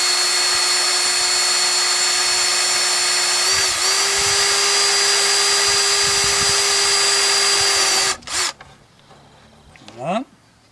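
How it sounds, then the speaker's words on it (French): Power drill boring small pilot holes in plastic for a hornet trap: a loud, steady high-pitched whine running for several seconds with a slight dip midway, then stopping abruptly, followed by brief scraping and a short spin-up. "on va faire quelques petits avant-trous pour éviter d'éclater le plastique"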